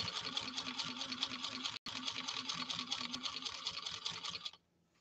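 A 1949 Singer 15-91 sewing machine stitching through tough material with a fatigued needle, a fast steady clattering whir with a brief break near the middle, then stopping abruptly near the end.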